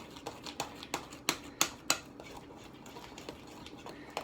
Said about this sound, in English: Make sure that you continuously mix this to get it to the consistency of a cake batter.